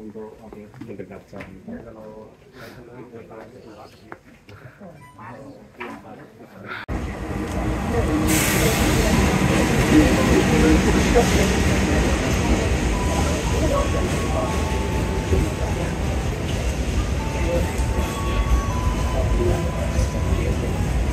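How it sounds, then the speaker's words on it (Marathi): Quiet voices at an Indonesian railway station give way to a loud, steady train rumble that rolls in and continues with a rattling roar, with people talking under it. "आपली रेल्वे आलेली आहे, ट्रेन आलेली आहे"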